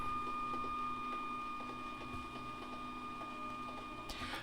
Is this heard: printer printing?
yes